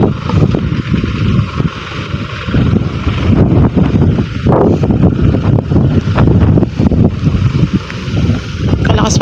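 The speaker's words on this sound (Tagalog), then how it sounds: "Kalakas pa mo kasi ng hangin." Strong wind buffets the microphone in loud, gusty roars, with people talking underneath.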